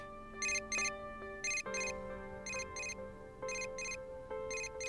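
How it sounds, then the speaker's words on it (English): A synthesized cell phone ringtone in the video game Persona 4: Dancing All Night plays a repeating chiming melody with bright, bell-like tones in a steady rhythm, with no voices. "A familiar ringtone sounds on my cell phone inside my bag."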